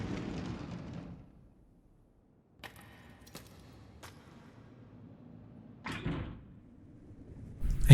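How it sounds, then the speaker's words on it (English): In a horror video game, something slams against a door: a few sharp knocks and thuds break through low ambient quiet, followed by a heavier impact near the end. "I hear a noise like something slamming against the door"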